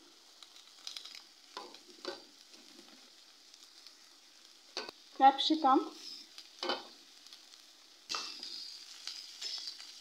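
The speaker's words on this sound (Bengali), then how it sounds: "হালকা ভাজা ভাজা করে নেব, খুব বেশি ভাজা করার প্রয়োজন নেই" Chopped carrot, beans, cabbage and capsicum are stir-fried for restaurant-style veg chow mein, with intermittent bursts of sizzling and stirring scrapes between quiet gaps while a voice speaks.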